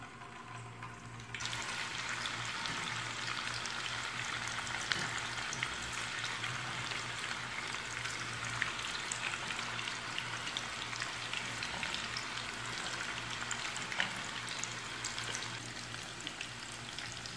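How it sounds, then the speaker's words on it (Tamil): Food fries slowly in hot oil at home, giving a continuous, even bubbling sizzle that holds at a moderate level, broken by a few faint clicks and utensil taps. "கொஞ்சம் ஸ்லோவாகவே ஃப்ரை ஆகட்டும், அந்த பபிள்ஸ் எல்லாம் அடங்கியோன்னா நீங்கள் எடுத்துக்கலாங்க"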